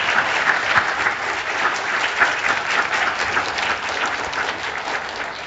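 A church congregation gives a loud welcoming applause at a Sunday service, dense continuous clapping from a large crowd with no speech over it.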